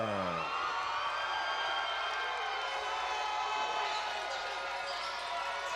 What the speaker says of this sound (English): Listen to the crowd get loud for Walter Diggs Jr.